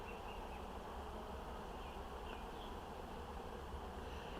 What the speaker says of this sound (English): this box is just full of bees